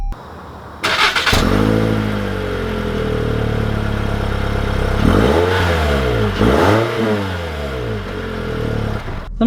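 A 2020 Toyota C-HR XLE engine pulls away from a stop, its note rising and falling through gear changes as the car accelerates, heard steadily and fairly close from inside the cabin with no talking.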